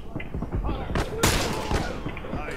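Gunfire in The Last of Us Remastered multiplayer, a dense burst of shots with one loud broadband blast near the middle, set against constant game noise with voices talking over it.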